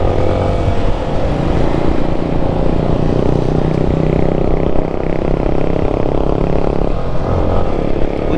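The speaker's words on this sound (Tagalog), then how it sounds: "Mga single motor lang yung mga nakakasabayan natin ngayon, walang mga sasakyan." Motorcycles ride alongside on the road, a steady close engine drone with wind and road noise running loud and unbroken from a moving rider's point of view.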